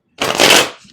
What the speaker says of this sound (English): I'm going to do 2 more shuffles beyond this one